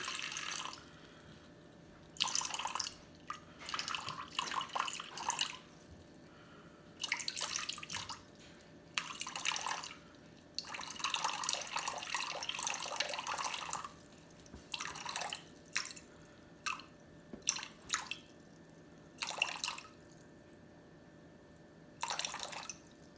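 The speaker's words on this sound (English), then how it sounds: "we're going to start out by putting 280 grams of water in here" Water poured into a mixing bowl while preparing sourdough dough, a series of splashing, trickling bursts with short pauses between pours, fairly quiet and close, with no talk.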